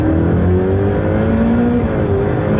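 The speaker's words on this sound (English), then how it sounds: "You start to get a little bit of a flavour of that V8 sat behind me" Ferrari 488 Pista V8 revving hard in race mode on a racetrack, a loud, close, continuous engine roar with rising harmonic whine as revs climb, no voices over it.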